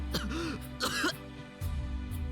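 A game character coughs violently after smoke inhalation in the Root Double visual novel: a couple of harsh, close throat-clearing coughs over a low steady background hum.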